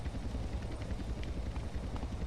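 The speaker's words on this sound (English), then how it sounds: "There's that helicopter again, wherever it is." A helicopter in a video game drones faintly and steadily somewhere in the distance, a low continuous rotor rumble under quiet ambient game sound.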